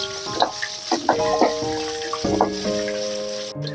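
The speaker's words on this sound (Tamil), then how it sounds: "இதையும் நல்லா வதக்கிக்குவோம்." A handful of small onions and garlic cloves fry in sesame oil, sizzling softly with occasional stirring bursts beneath steady background music.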